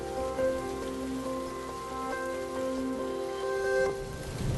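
Rain falling in an animation of an aircraft landing on a Possehl anti-skid runway, a steady hiss of drops with a faint tonal hum underneath, even throughout and no voices.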